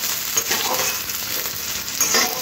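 Chopped onion frying in hot oil with a tempering of cumin and dried red chilli gives a steady, close, dense sizzle with soft crackles throughout, and no voices.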